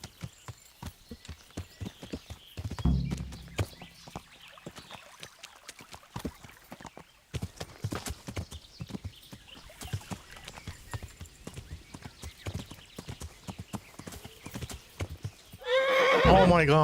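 A horse in the video game Kingdom Come: Deliverance gallops with rapid rhythmic clip-clop hoofbeats, then neighs loudly near the end, while a person talks intermittently.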